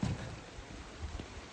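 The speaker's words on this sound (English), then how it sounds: "rain has stopped play, as bloody usual in Devon" Steady rain hisses down over a Devon farm, a dense, even wash of noise at moderate distance with a few low rumbles, no voices.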